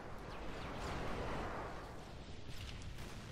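A faint airstrike explosion in Call of Duty: Modern Warfare 3 gives a distant, rolling rumble that swells and then fades, with a few small crackles near the end.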